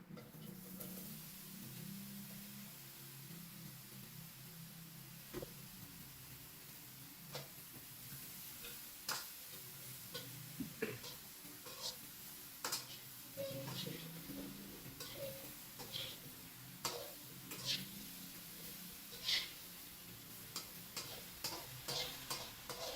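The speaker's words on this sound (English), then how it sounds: "Mix it with the red onion. Now we could add our eggplants to the stove." Eggplant and red onion with chilies fry in a pan on a home stove, giving a soft, steady sizzle broken by scattered clicks and taps of stirring.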